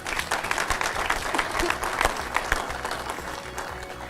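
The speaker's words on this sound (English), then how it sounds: "Let's give a round of applause to Mark Pelletier." Audience applause at an awards gathering for a college golf classic, a steady wash of many hands clapping at moderate volume, sustained evenly for several seconds without speech.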